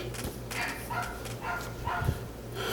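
A dog barks a few times in short bursts at a moderate distance, the barks spaced irregularly over a low background hum.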